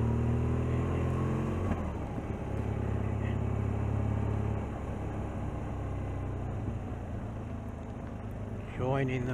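A car engine revs up as the vehicle pulls onto the main road between Stratford and Ulster, a steady motor drone with rising tones early and near the end, under faint background noise.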